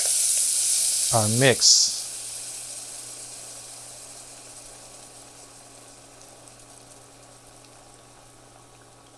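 Shrimp stock hitting a hot gumbo mix, a loud hiss and splutter that bursts up early and then fades to a faint, steady simmer, with a brief spoken word near the start.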